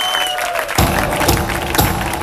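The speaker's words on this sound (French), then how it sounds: "On peut les applaudir bien fort," Spectators at a beach volleyball tournament in Geneva applaud a match win, loud continuous clapping with a couple of sharp low thumps standing out.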